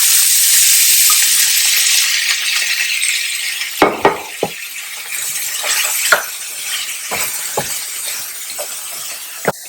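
Vegetables sizzle and hiss in a steel pan, a steady bright frying sound with occasional clinks and stirring knocks from a utensil against the metal.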